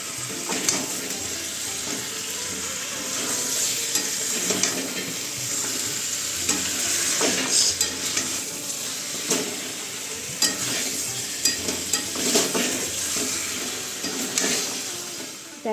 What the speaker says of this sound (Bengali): মশলাটা কষানোর পরে ওই যে আমি ভেজে রেখেছিলাম যে চিকেনটা সেটা দিয়ে দিয়েছি